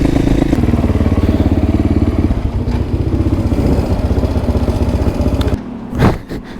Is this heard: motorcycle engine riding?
yes